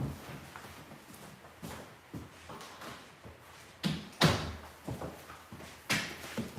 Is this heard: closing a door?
yes